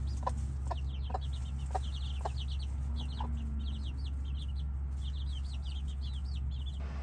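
Small young chickens cluck and peep in quick, repeated chirps near a coop, fairly faint over a steady low hum, with a few louder calls scattered throughout.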